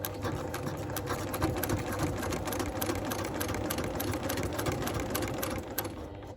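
Sewing machine stitching steadily while free-motion quilting with a ruler, a continuous close, even mechanical whir with rapid needle ticks that eases off at the very end.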